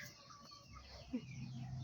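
Chickens cluck softly at a distance, a few short calls over a quiet outdoor background, faint throughout.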